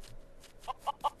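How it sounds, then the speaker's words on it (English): A chicken clucks in a handful of short, close, repeated notes in the crafting game Craft the World, rising and growing louder over soft background hiss. "And kill chicken."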